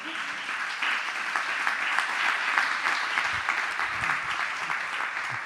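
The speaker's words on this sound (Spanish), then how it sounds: "Dele palmas al Señor." A church congregation claps hands steadily and loudly for several seconds during a sermon, a dense continuous wash of applause with no voices over it.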